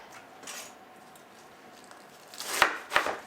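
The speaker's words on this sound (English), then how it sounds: "We're going to slice this guy on up" Knife slicing through a vegetable on a cutting board, two crisp chopping strikes near the end after a quiet stretch of kitchen background.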